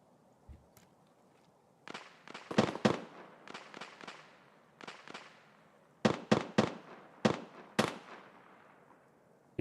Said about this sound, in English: Okay, we're just shooting at the BTR.